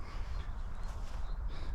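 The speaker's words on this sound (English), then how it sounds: "I can see some birds in the trees there, just sitting there" Crows caw from the trees, their calls rising over a steady outdoor rumble at moderate distance, with no talking.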